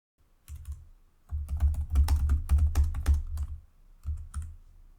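Keys clatter on a computer keyboard as code is typed, bursts of rapid close-up clicks with brief pauses between, heard alone.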